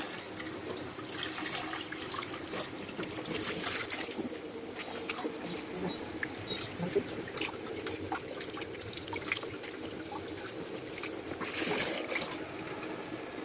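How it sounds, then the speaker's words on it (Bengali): Fish roe rinsed in water by hand while cooking, a steady trickling and splashing of water with small clinks, moderately close and continuous throughout. "এই যে মাছের ডিমগুলো পরিষ্কার করে নিচ্ছি, এভাবে এগুলো ফেলে দিচ্ছি।"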